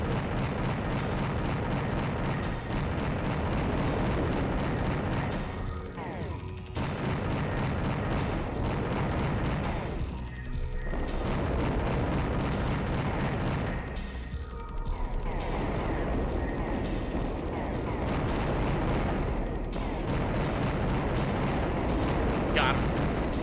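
Flashbang grenade blasts in an early first-person shooter on Sega Saturn hardware: a continuous loud, dense roar of explosions and gunfire, constant throughout with brief dips and no pause.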